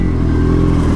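A motorcycle rides over a badly broken road, its steady engine drone loud and close with rattling clatter from the bumpy surface, no talk.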